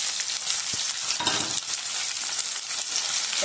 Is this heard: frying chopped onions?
yes